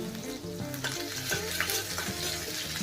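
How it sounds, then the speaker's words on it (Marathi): Chopped ginger, garlic and green chilli frying in hot oil for gravy manchurian, a steady close sizzle with stirring scrapes and a low hum of background music underneath. "तेल गरम झालं की त्याच्यात टाकून घ्यायचं आहे अद्रक आणि लसूण बारीक कट केलेले आणि हिरवी मिरची पण बारीक कट करून घेतलेली"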